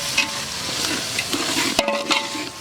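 Onions, ginger, garlic and curry leaves sizzle loudly in a large pan of oil while a ladle stirs and scrapes, with a sharp metallic clank partway through.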